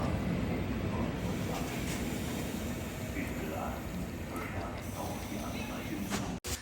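A steady low rumble and rattle inside a FlixTrain carriage between Dortmund and Berlin, Germany, with faint clanks and a muffled voice under the constant rolling noise.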